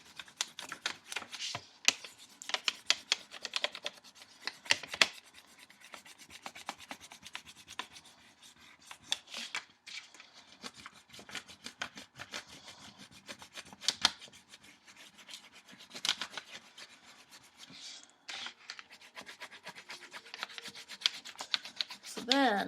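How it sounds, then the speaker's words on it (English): Brown crayon scraping over a paper plate in long stretches of close, dry rubbing strokes with an irregular rhythm, fairly quiet, with occasional soft handling noises and no speech. "I'm going to take my brown crayon and color it in completely brown."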